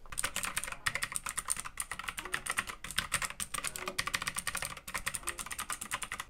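Fast, continuous clacking of a mechanical keyboard being typed on, close and crisp, with brief pauses between bursts and no talking.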